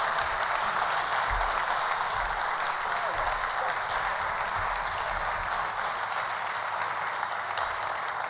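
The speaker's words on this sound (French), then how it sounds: "vous pouvez l'applaudir" An audience applauds at an awards evening held at the CCI Paris Île-de-France, Hôtel Potocki, a continuous dense wash of clapping with a low rumble beneath and some faint voices mixed in.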